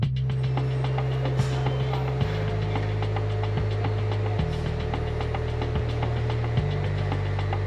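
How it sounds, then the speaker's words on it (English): Pneumatic valves on a fly ash hopper at a waste plant boiler tick and click at a steady rhythm over a constant low industrial hum. The drone shifts pitch every couple of seconds, and faint hissing bursts break in occasionally. "And what you hear there is the pneumatic valves."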